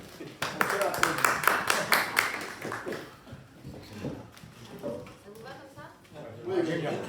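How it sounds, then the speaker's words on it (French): Audience at a book fair bursts into applause, with a few seconds of sharp, fairly close clapping that quickly thins into scattered claps and murmuring voices. "On peut applaudir."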